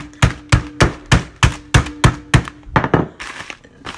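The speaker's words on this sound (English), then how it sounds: "And another thing I like to do is smash them with like a big mortar or something." Dried black fungus mushroom strips are pounded with a big mortar in a kitchen, making about a dozen sharp, close thunks in a steady rhythm that turn quicker and softer toward the end, with no voices.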